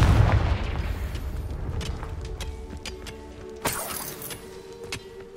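A Confringo blasting curse explosion in the Hogwarts Legacy video game, a loud deep boom at the start that rumbles and decays, followed by scattered crackles and a sharp secondary burst.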